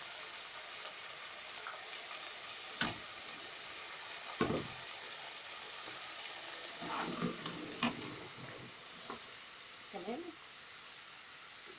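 Potatoes cook in a pan with sauce, giving a soft steady sizzle and bubbling broken by a few utensil scrapes and stirs, with a brief word spoken by a woman.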